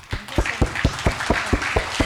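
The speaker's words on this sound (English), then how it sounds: "I'd like to give our speaker a big round of applause." Rhythmic clapping thanks a speaker at the close of a discussion on creativity in the digital industry, with sharp, evenly spaced claps about four per second and no talking.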